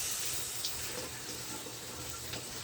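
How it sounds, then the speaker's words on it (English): Kitchen tap water running steadily into a sink while grapes are rinsed for steam-extracted juice, a soft continuous hiss with no voices. "There's my crazy water again, making all that racket."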